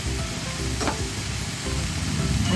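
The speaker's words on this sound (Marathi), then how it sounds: "मेथीची भाजी परतून घ्यायची" Fenugreek (methi) leaves with onion, green chili, coconut and salt sautéing in a pan, a steady close sizzle with stirring scrapes throughout, no voices.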